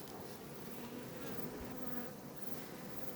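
Honey bees from a local colony drone steadily around an open hive, a faint, dense buzz that holds without a break, with individual insects whining past now and then.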